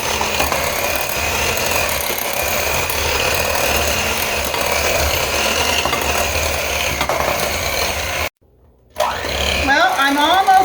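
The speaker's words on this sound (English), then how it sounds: "I have a pound of butter in here that's softened, and I'm going to go ahead and cream this." An electric mixer creaming a pound of softened butter for potato chip cookie dough whirs steadily and close for several seconds, cuts out briefly, then resumes as a voice begins talking.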